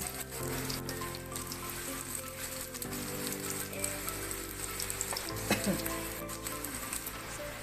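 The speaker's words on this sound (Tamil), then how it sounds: "இன்னொரு பக்கமும் நல்லா ஃப்ரை ஆகட்டும்" Raw plantain slices fry in a pan with a constant, dense sizzle and crackle, loud and close, with faint clinks as the pieces shift.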